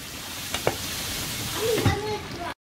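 Kochu shak, taro greens, cooks down in a pan with a soft continuous sizzle and a few stirring clinks, while a voice talks briefly over it.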